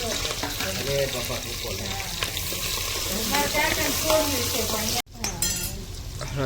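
Chopped capsicum and onion frying with manchurian in a pan make a loud, continuous sizzle with stirring clatter, briefly cut off near the end before the sizzle resumes.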